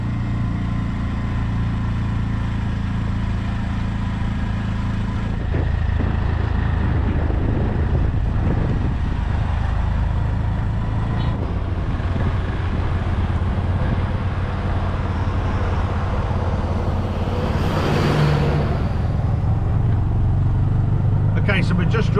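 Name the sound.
tuk-tuk engine driving down the road in Sri Lanka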